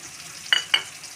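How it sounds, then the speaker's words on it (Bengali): Two brief scraping stirs of spices frying in a pan for broccoli sabzi, with a soft sizzle underneath; short, close, and fairly quiet, with no voices. "মশলাটা দিয়ে একটু ভাজা ভাজা করে নেব"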